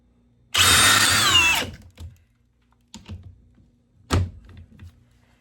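A Milwaukee 2904 cordless drill runs in one short whirring burst of about a second, close and loud, then winds down, followed by a few sharp clicks and knocks as it is handled.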